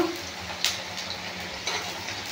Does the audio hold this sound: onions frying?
yes